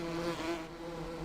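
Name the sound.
bees buzzing in a video game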